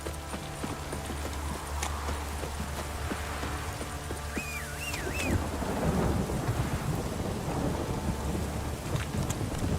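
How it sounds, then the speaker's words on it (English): Steady rain pours in the Witcher 3 video game while thunder rumbles low, with a horse's hooves clip-clopping along and a faint whistling tone partway through, all fairly quiet and continuous. "If it don't stop raining, my arse will rot off."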